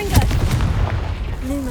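Confringo blasting spell explosions in the video game Hogwarts Legacy, a couple of loud booming bursts with rumbling low-end tails, followed by a rising magical whoosh near the end.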